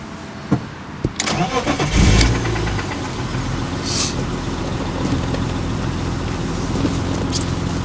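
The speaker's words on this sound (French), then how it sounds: "Je pense qu'on va écouter le bruit du moteur." BMW M3 E36 engine: a few clicks, then the starter cranks and the engine catches with a loud burst before settling into a steady, even idle close by.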